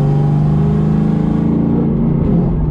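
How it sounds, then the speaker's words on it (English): A New Edge Ford Mustang's engine runs steadily from inside the moving car, with a loud, continuous low rumble and harmonic drone that shifts slightly in pitch as it drives. "I just want to show and kind of tell you how the Mustang runs currently."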